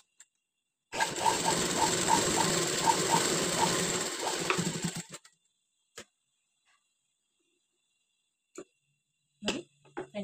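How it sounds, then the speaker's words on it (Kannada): A sewing machine stitches around a patchwork piece with a rapid, steady whirring run of about four seconds, then stops, leaving a few faint clicks and handling sounds, with no talk. "ಸ್ಟಿಚ್ ಹಾಕೊಳ್ಳಿ ಸುತ್ತು."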